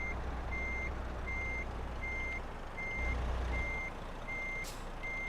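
Steady, evenly spaced reversing beeps from a truck backing up in Euro Truck Simulator 2, heard over a constant low engine rumble with a brief hiss near the end.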